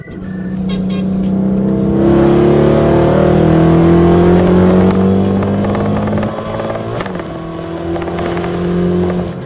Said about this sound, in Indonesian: Gua sekarang mau coba Ngegas dikit lah